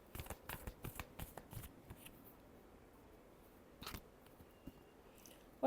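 Tarot cards are shuffled by hand in a quick run of crisp riffles and taps, close and fairly quiet, tapering off into soft handling noise with a final shuffle near the end.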